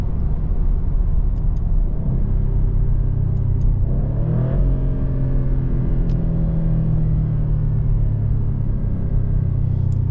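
A 2024 Maserati GranTurismo Trofeo engine downshifts while slowing for a red light, a loud steady rumble with stepped pitch changes and short revving blips, heard from inside the car without talk.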